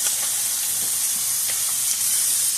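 Chicken thighs sizzling in a hot pan, a steady bright frying hiss running throughout, with a few faint tong ticks as the pieces are turned, close and alone.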